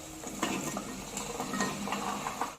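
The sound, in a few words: vegetables with curd and masala being sautéed and stirred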